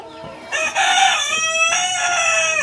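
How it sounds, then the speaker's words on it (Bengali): A rooster on a poultry farm crows loud and close, one long harmonic cock-a-doodle-doo that fills most of the short moment and sounds on its own with no talk. "অনেক সুন্দর মোরগটা।"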